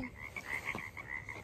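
A frog calls from water nearby, a brief croak or two over a faint outdoor hum, no voices.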